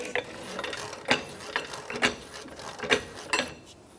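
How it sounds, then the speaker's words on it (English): A jack is ratcheted up under the rear suspension of a 2013-2018 Toyota RAV4 during a coil spring replacement, giving close metallic clicks at a steady rhythm of roughly two per second. "now we're going to just jack it up till we line up the lower knuckle"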